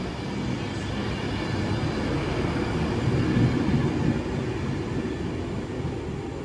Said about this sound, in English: departing now is 39104 Alston Pendolino on the 1547 Avanti West Coast Class 390 Pendolino service to Manchester Piccadilly